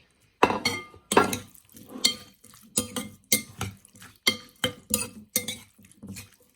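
A homestyle Thai salmon belly salad being stirred in a bowl, with a run of about ten sharp, evenly spaced clinks and scrapes of utensil against dish, close and clear with short silences between them.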